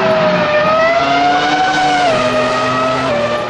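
Toy Formula One race car gives off a loud, steady electronic engine whine that rises and falls in pitch like revving, continuous throughout with no talk.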